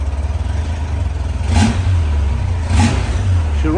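A 1994 Honda Goldwing 1500 Aspencade motorcycle engine running close by without choke, a loud steady low hum that rises in two brief revs.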